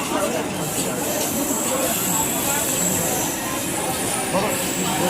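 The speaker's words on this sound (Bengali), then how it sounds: "ট্রেন এবার নরেন্দ্রপুর স্টেশনে ঢুকছে, এবার নামতে হবে" A Baruipur local train rolls into Narendrapur station, heard from inside the vendor compartment as a dense, steady rumble with faint wheel squeal throughout.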